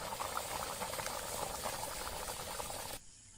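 A pot of country chicken curry bubbles at a rolling boil, a dense continuous close blubbing and popping that drops suddenly in level near the end, with no talking.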